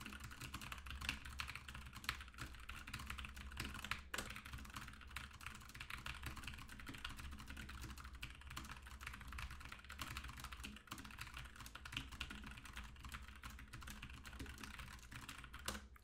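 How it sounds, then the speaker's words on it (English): Fast, continuous typing on a computer keyboard, a dense rapid patter of key clicks sustained for the whole stretch at close range with no talk. "I'm gonna turn on the live speed so that you guys can see how fast I'm typing."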